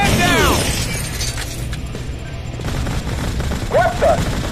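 Gunfire rattles in the Modern Combat 3 shooter game, several sharp bursts and shattering impacts up close, with shouted voices mixed in.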